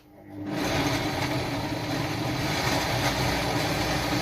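A blender starts up and whirs steadily while pureeing a soup, a loud, even motor drone that kicks in after a brief quiet start and holds constant with no talking.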